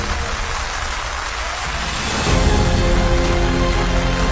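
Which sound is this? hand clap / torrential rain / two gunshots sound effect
torrential rain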